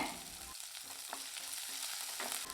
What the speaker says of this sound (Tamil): இப்போ வெங்காயம் நல்லா வதங்கட்டுங்க